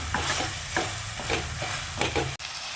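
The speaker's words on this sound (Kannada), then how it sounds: "ಎಲ್ಲ ಈ ಥರ ಮಿಕ್ಸ್ ಮಾಡ್ಕೋಬೇಕು ನೀಟಾಗಿ ಎಲ್ಲನೂ." Ground tomato is stirred into a pasta sauce in a pan, with a spoon scraping in repeated strokes over a soft, steady sizzle and no talk.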